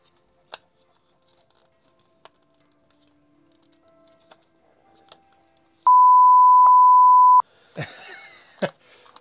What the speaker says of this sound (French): On mettra des bips hein, sur les gros mots